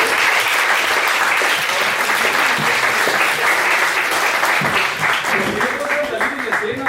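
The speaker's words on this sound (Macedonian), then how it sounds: "ви благодарам на аплаузова група" An audience at a forum theatre play about peer bullying applauds, with dense, sustained clapping and some crowd noise lasting the whole stretch at a loud, even level, with faint talk mixed in.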